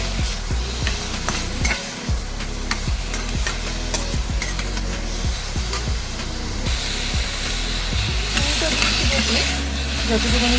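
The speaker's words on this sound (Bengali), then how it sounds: "এই যে তেলের মধ্যে নাড়াচাড়াটা মোটামুটি হলো" Pineapple fries in hot oil in a pan and is stirred, a loud, continuous sizzle close up with repeated scraping strokes throughout.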